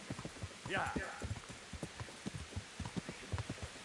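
Horse hooves clip-clopping at a steady trot in the Kingdom Come: Deliverance video game, rhythmic soft thuds close by, with a brief voice over them.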